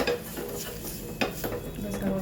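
A spoon stirs a spice mixture of ground coriander-cumin, turmeric and red chili in a metal pan, with soft scraping and light clinking at close range and no talking.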